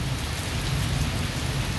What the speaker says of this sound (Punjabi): ਤਸਵੀਰਾਂ ਦੇਖ ਸਕਦੇ ਹੋ ਤੇਜ਼ ਬਾਰਿਸ਼ ਦੀਆਂ